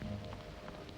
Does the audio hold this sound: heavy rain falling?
yes